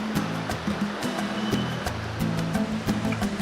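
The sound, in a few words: river water flowing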